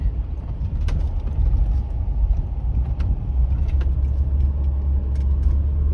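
A 1985 Cadillac Eldorado drives along a New England road, giving a steady, continuous low engine and road rumble from inside the car, with no talking.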